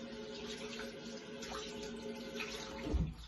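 Tap water runs steadily into a sink while hands are rinsed at the bathroom basin, a soft continuous splashing over a low background hum.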